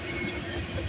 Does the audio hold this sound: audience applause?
no